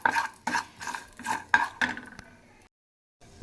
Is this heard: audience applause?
no